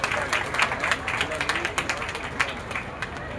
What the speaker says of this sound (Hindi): आप ताली बजाकर स्वागत करिए